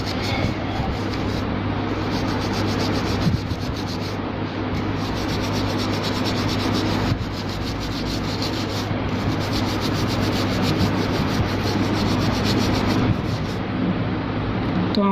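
Continuous rubbing and scrubbing of a Gigabyte GA-EG41MF-US2H desktop motherboard being cleaned with petrol, a steady close abrasive texture with short breaks, running alone without talk.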